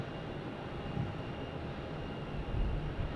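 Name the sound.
Boeing 737 MAX 8 airplane at Phoenix Sky Harbor airport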